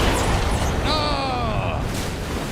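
A movie explosion from Jaws, a loud, dense blast with a long roaring rumble spread across the whole moment, with a brief tonal cry rising over the middle.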